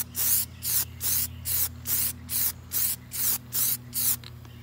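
Spray paint hisses in about nine evenly spaced short bursts as another coat goes onto a mod emblem, loud and close with no talking.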